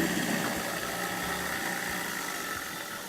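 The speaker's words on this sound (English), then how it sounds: "Run the motor again." A newly installed garbage disposal motor runs steadily with a continuous mid-pitched hum and whir, fairly quiet and alone without talk.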